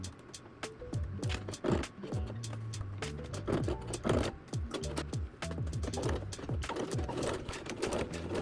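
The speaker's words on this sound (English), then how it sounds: "Actually, I'm gonna sew about a 1/2 inch away from both sides of the seam." A sewing machine stitching a bag seam, running in close bursts of rapid mechanical chatter with brief pauses between runs.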